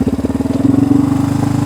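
A Yamaha Raptor 350 quad's single-cylinder engine chugs close and loud, a rapid pulsing thump that rises slightly in pace as it revs.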